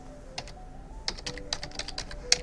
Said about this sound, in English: let's go in and just type in Vectary again